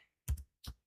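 A few quick key taps on a computer keyboard while entering data into an Excel form, two close strokes followed by a third, faint and near with no voice.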